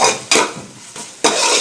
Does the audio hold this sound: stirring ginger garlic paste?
yes